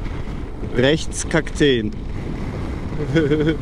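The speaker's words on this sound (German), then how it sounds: "Ist windig heute." Steady gusty wind buffets the microphone, a rushing low rumble running under someone speaking briefly in German.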